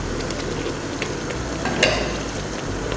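Onion, pepper and garlic paste frying in a pot for a Nigerian stew, giving a steady close sizzle with faint scraping and clinks, one louder burst near the middle.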